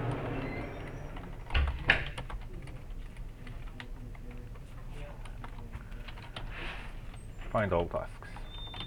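Quick bursts of typing on a computer keyboard as a query is entered, the clicks fairly close and interspersed with someone talking quietly.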